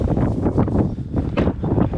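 Strong wind buffeting the microphone in loud, low rumbling gusts that rise and fall without a break.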